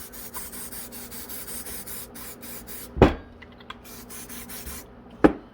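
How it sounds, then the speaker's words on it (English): A steady aerosol spray of brake cleaner hisses for a few seconds into a chainsaw's bottom end, followed by quieter handling noises and two sharp clacks. "I'm just going to spray it into here"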